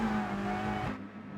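A Scirocco race car in Gran Turismo Sport holds a steady engine drone for about a second, then falls away abruptly into near quiet.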